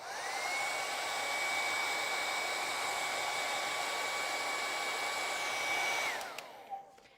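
A hair dryer blowing on acrylic paint during a flower painting session, a loud steady whirring roar held for about six seconds before it is switched off and winds down, followed by a soft clunk.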